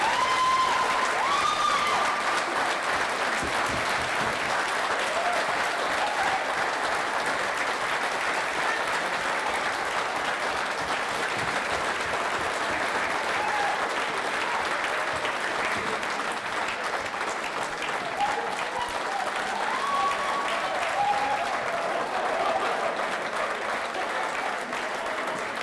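Sustained crowd applause and cheering after the winning shot of an All Ireland ladies singles handball final, a dense, steady roar of clapping that runs unbroken throughout.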